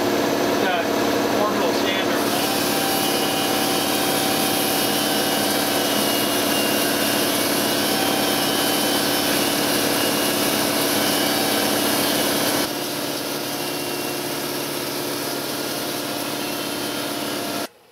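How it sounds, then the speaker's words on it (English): An electric orbital sander works a wooden baseball bat on a lathe with a loud, continuous buzzing whir and abrasive rasp, close up, easing slightly near the end and then cutting off, with a voice heard over it. "I'm done with the orbital sander"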